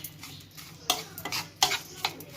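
A utensil scrapes and knocks in a pot while chicken is turned with pepper, salt, white pepper and bay leaf, giving several irregular close clatters over a faint low sizzle.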